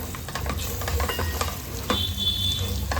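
Masala ingredients fry and sizzle in a pan for a spiny gourd gravy, a steady close crackle broken by scraping stirs, with a brighter hiss swelling near the end.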